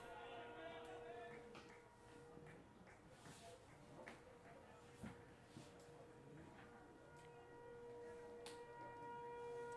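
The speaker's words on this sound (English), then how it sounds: "Tornado siren going." A distant tornado siren wails steadily in the background at a baseball game while scattered clicks and light rustling sounds occur close by.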